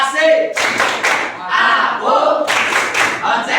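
Students in a classroom clap a rhythmic concentration pattern in loud, close bursts, the groups of claps separated by short pauses.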